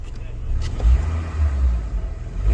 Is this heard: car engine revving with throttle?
yes